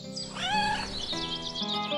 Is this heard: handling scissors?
no